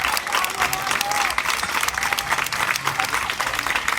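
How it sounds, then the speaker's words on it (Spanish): A crowd at an outdoor political rally in a public plaza claps steadily and loudly, dense applause with a few cheers and faint voices mixed in. "se merece también un fuerte aplauso"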